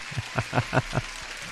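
A short canned applause effect on a live futures and forex trading stream, a handful of distinct clap bursts in a quick even rhythm over a steady background hiss, fairly faint.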